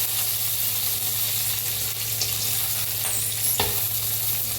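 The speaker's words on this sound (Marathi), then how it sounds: "थोडंसं तेल ओतलंय मिरच्या भाजायसाठी। भाजून घेऊया शेंगदाणा" Dried chillies and peanuts roast in a little hot oil in a pan, a steady, close sizzle with faint stirring scrapes and one brief clatter, no talking.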